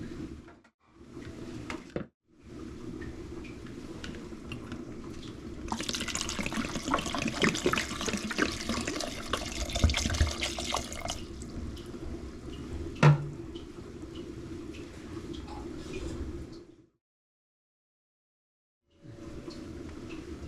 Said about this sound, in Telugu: వాటర్ పోయాలి.